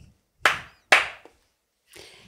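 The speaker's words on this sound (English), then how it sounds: "I need another clap" Two sharp, close hand claps about half a second apart, then a softer, duller clap after a pause, with near silence between.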